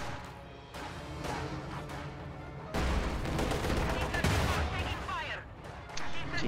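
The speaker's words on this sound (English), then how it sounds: "Very nice aggressive Katyusha barrage." Katyusha rocket barrage in a World War II strategy video game, heard as a rolling series of sharp launches followed by a louder, sustained rumble of explosions under a wash of battle noise.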